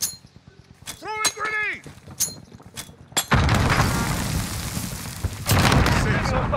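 A grenade bursts in a multiplayer shooter match, a sudden loud boom followed by a long, dense rumble of noise with another strong burst near the end, after stretches of voices talking over game sounds.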